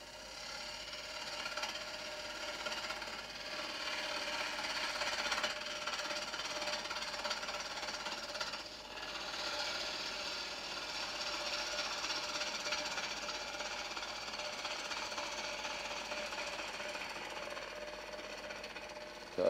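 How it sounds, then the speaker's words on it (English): Wood lathe running at 1200 rpm while truing the base face of a bowl, a steady continuous whir with scraping and rasping tool noise throughout, fairly quiet and with no voices. "We'll stop the lathe to do that"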